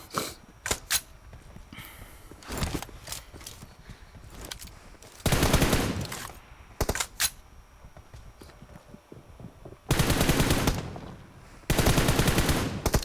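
Gunfire from the mobile game PUBG Mobile comes in single shots and sharp bursts, with several long, loud sustained automatic volleys between quieter pauses and scattered footstep-like taps.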